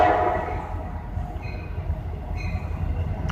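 A CSX freight train hauled by an EMD locomotive rumbles past at a distance, with steady low rail noise and brief faint squealing tones, no talking.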